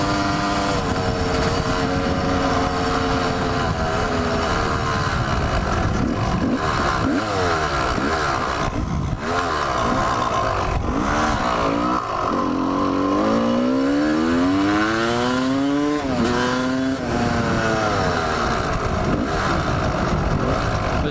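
A Honda CR250 dirt bike engine close by, its revs rising and falling unevenly in wavering sweeps, sputtering and surging as it runs short of fuel over a steady continuous drone.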